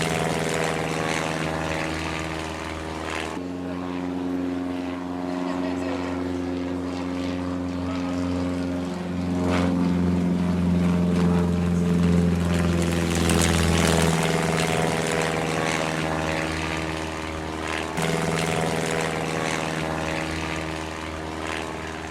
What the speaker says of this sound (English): The Vickers FB5, known as the Gunbus. This airworthy gunbus replica built in 1966 and painted in RFC colors.